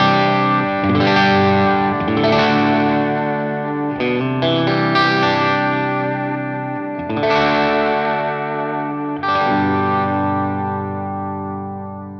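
An Ibanez AZ Prestige electric guitar with the humbucker and both single coils wired in series plays sustained, effected chords with chorus and slight distortion, several strums ringing out alone, loud and close.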